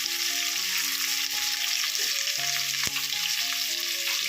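Onions and chillies fry in a pan over a medium flame for a mushroom biryani, a steady, even sizzle with faint clinks of a utensil and no talking.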